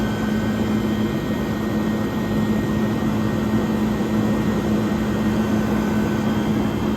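A 1978 Comfort-Aire Quietmaster Heat Controller 29,000 BTU air conditioner with its reciprocating compressor running, a steady close-up mechanical hum with a low drone and no variation throughout.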